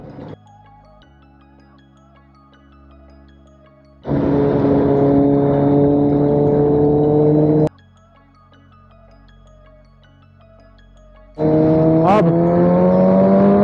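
A Suzuki Hayabusa motorcycle in third gear screams up to its rev limiter twice, each loud rising engine wail cutting off abruptly, with quieter idling or coasting stretches in between.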